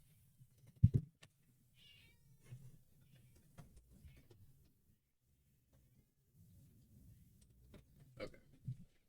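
An indoor cat meows a few times, soft and fairly faint, with quiet gaps and light rustling between the calls.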